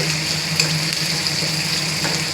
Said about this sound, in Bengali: এবারে তেলের উপর একটু পেঁয়াজগুলো ভেজে তুলে রাখবো, বিরিয়ানির জন্য দরকার।